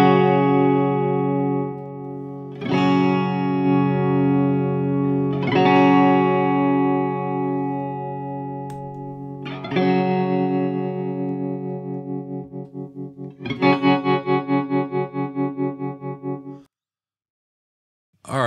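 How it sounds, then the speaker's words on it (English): Guitar through a Vox AC-10 valve amplifier with the vibrato amplitude knob turned up and tremolo off, several loud struck chords ringing out one at a time, the last one pulsing rhythmically before a brief silence. "when the vibrato amplitude knob is turned up with the tremolo off, it gets louder"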